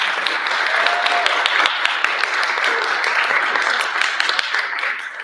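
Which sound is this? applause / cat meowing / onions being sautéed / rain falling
applause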